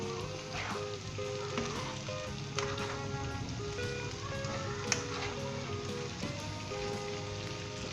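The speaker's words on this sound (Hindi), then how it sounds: "एक दफ़ा मिक्स कर लें अच्छे तरीके से दोबारा।" Potato sabzi sizzles softly in a pan as it is mixed, a low crackling hiss under a steady tonal background with an occasional clink.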